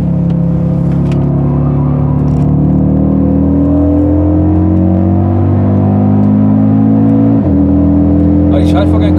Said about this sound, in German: Aber wie laut das Auto auf einmal wirkt, wenn man wieder in dem RS-Modus drin ist.